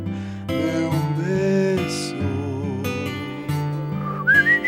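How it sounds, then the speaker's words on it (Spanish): Melodic whistling by a person, wavering and somewhat uneven as if hard to produce, carrying a tune over nearly five seconds at moderate loudness, with a few brighter rising notes near the end and no other sounds. "Ahora ni me sale el chiflido"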